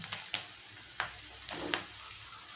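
A tomato goes into a hot frying pan for brinjal (vankaya barbati) curry, giving soft crackling sizzle with a few sharp pops and stirring clicks, close and fairly quiet.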